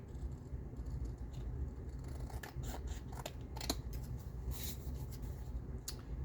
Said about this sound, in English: Alright, let me cut out this excess here.